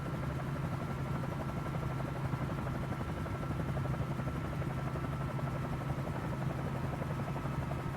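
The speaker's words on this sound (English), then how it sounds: "Hover around in our new helicopter." A Bell 47J Ranger helicopter hovers in Microsoft Flight Simulator, its engine and rotor producing a steady, unbroken drone with a low hum that stays even in level throughout.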